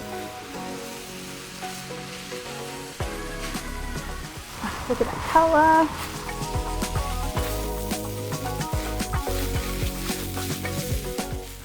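Rice and red sauce for Korean-style spicy beef fried rice hit a hot pan and sizzle loudly. The crackling surges as the food is stirred and then holds steady, with a voice speaking briefly over it.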